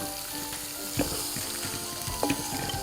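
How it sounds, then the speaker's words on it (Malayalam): Two medium onions sauté in hot oil in a pan for Kerala-style tapioca biryani, giving a steady close sizzle with a couple of soft scraping stirs and no talk. "അതിൻ്റെ കൂടെ നമ്മൾ സവോളയും കൂടി ഇട്ട് കൊടുക്കുകയാണ്. ചെറുതായിട്ടൊന്ന് വഴറ്റാൽ മതി."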